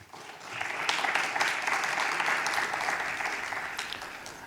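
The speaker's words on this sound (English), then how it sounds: "Please welcome him with a round of applause." An audience at a formal public-health award ceremony applauds steadily. The clapping stays dense and sustained for several seconds with no talk over it.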